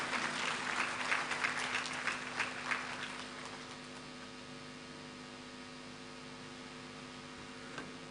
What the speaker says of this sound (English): Oh, round of applause for him, ladies and gentlemen.